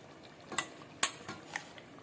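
Ground masala being stirred into mutton chukka with yogurt in a pan, a few quiet scrapes and clinks of the spoon spaced out over soft background noise.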